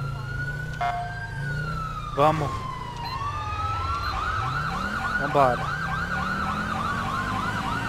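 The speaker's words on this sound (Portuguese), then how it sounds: "Olha aí, ambulância de Israel também." Israeli ambulance siren in GTA V, a loud wailing siren sweeping up and down with sharp warbling yelps, mixed with traffic engine noise while someone speaks briefly.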